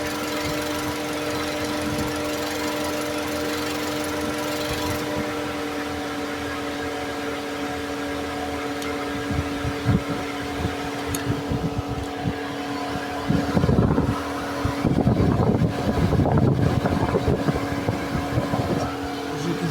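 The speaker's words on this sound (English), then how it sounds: "this fan is still active at full speed" A Volkswagen Jetta's electric radiator cooling fan keeps running at full speed with the engine off, giving a steady close whirring drone with tonal hum, later joined by louder rustling and handling clatter.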